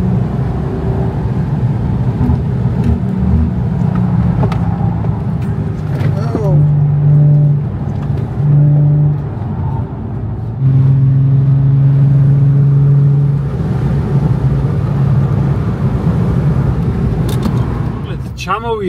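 A BMW Z sports car descends a steep downhill road, its engine a steady mid-pitched drone with shifting tones as speed changes, and people talk over it throughout.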